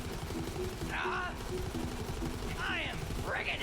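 Rapid gunfire rattles steadily through a firefight in Borderlands 3, mixed with warbling sweep effects from the game.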